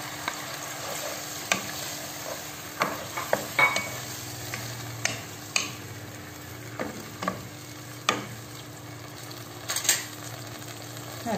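Meat and garlic frying in a pot, with a steady low sizzle under repeated sharp scrapes and clinks of a utensil stirring against the metal, close by and moderately loud, with no talking.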